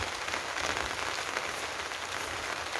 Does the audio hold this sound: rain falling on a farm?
yes